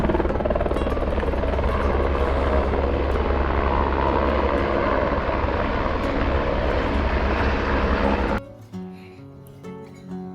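A loud helicopter roars close by with thumping rotor blades for about eight seconds, then the noise drops sharply and quieter sounds follow.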